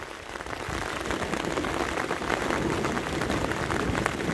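Steady, heavy rain patters on a boat in the Danube Delta in a constant dense hiss, close and unbroken throughout.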